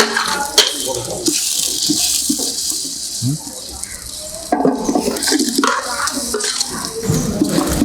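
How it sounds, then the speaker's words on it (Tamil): Water poured into a soup pot of frying masala, a splashing, gurgling rush heard close with clinks of utensils against the pot, broken by short pauses. "தேவையான அளவு தண்ணி ஊற்றலாம்"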